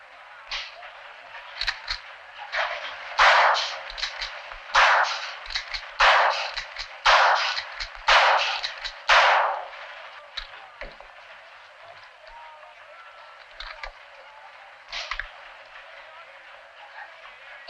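Gunshots from target shooting ring out in a loose series of sharp cracks, several close together then sparser, with a few fainter shots after a pause.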